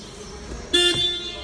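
A new Suzuki car sounds one short, bright horn toot, close and sudden, lasting about a fraction of a second over quiet background noise.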